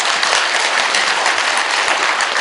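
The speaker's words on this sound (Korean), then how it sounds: "지금 박수 칠 시간이 없거든." A temple audience at a Buddhist dharma talk at Jeungsimsa on Mudeungsan bursts into loud, dense, continuous clapping that fills the hall from start to finish.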